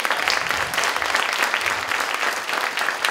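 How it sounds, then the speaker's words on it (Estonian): A crowd at a televised show gives a lyricist a big round of applause, dense, loud, continuous clapping with no voices over it. "Suur aplaus talle selle eest."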